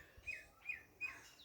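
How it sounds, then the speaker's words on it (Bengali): Birds chirp in short repeated bursts, three clear high calls spaced about evenly, heard at moderate distance over quiet background in a garden with white crape jasmine and red oleander flowers. "ওদিকে পাখিদের কিচিরমিচির আওয়াজ"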